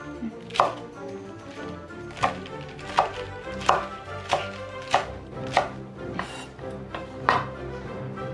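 A knife chops through cabbage hearts on a cutting board for nabak kimchi, about ten crisp, evenly spaced strikes, close and clear against a quiet kitchen.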